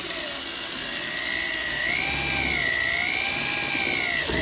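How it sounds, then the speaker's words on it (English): Power drill boring 13/64-inch holes into a metal body panel for splash guards on a 2014-2019 GMC truck, a continuous high whine that rises and wavers in pitch, steady and close, with no talking. "drill 3 13/64 holes where you mark them"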